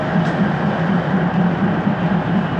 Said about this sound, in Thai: นี่คือรถไฟ